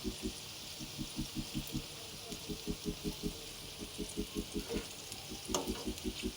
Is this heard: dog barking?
no